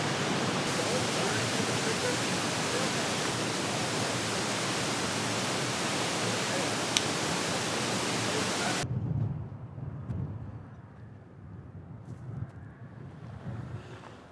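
Waterfall in Iceland heard from behind the falling water, a loud, dense roaring rush for most of the time, then abruptly quieter with softer water noise and faint voices.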